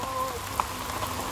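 Steady rain falls on surfaces outdoors near a river confluence at a saint's shrine in India, a constant soft patter with an occasional louder drop, with no voices.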